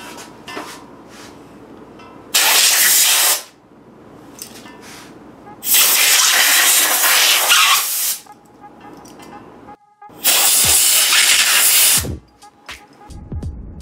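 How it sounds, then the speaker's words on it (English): An air compressor blowgun blasts air to blow off latex gloves: three loud, steady hissing bursts of about one to two seconds each, separated by quieter shop background. "I got an air compressor with a blowgun attachment to it"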